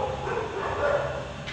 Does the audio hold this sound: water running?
no